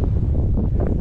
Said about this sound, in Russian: Такие волны, такой ветер.